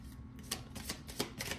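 A deck of tarot cards being shuffled by hand, a quick run of crisp riffling flicks and soft slaps close by, with no talk.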